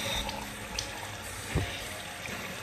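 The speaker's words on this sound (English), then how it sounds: "Turn the water on." Water runs steadily from a tap into a sink, a faint, continuous hiss and splash with a small clunk midway and no talking.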